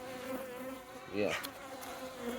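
Bees buzz around an open beehive, a faint shifting hum with a slightly louder pass near the middle.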